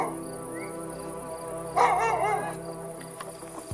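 A dog near cows gives a short burst of barking midway through at night, fairly close, over a steady background hum of night insects.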